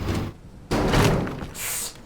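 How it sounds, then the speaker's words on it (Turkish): King Kong bangs his head in the Teardown video game, producing heavy thuds: a dull knock at the start, then a louder booming impact followed by a fainter, hissing crash, with no voices. "Kafayı çarptı King Kong Bey."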